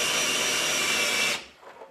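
A cordless drill in low gear turns the crank of a knee mill through a crank adapter, a steady loud whirring grind that cuts off abruptly near the end, leaving faint mechanical noise.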